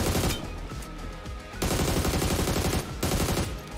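Sustained automatic gunfire in a shooter game, loud and dense, in long rapid bursts separated by brief gaps.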